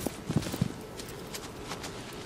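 Horse hooves galloping in Shadow of the Colossus, a quick run of close clip-clop beats at first that fades into a softer, steady patter with no talking.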